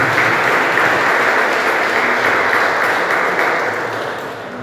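Church congregation applauding together, a loud, continuous roar of clapping that stays dense and even throughout before easing slightly at the end.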